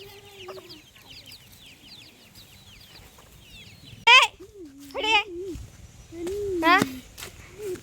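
Hens cluck in short, repeated calls on a farm where rice is scattered for them, with a few louder clucks near the end over faint chirping birds in the background.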